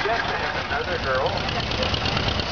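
An antique tractor engine idles with a steady, knocking chug at a tractor show, close and fairly loud, with voices talking faintly over it.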